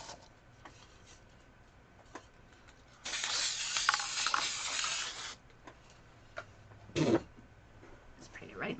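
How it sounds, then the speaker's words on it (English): An aerosol spray can hisses out one sustained burst of about two seconds, then a short second puff, against a quiet room background. "Now I'm going to spray it"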